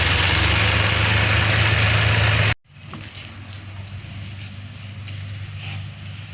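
A tractor engine runs at a cow shelter while fodder is loaded into its trolley, a loud steady idle that cuts off abruptly partway, then a quieter low engine hum with scattered clanks and knocks.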